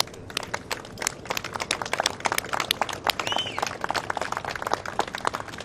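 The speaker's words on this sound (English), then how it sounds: "And for those of you who applaud" Steady applause from a crowd at an outdoor press briefing on an RV explosion in Nashville, dense clapping filling the whole stretch without pause, fairly close and even in loudness.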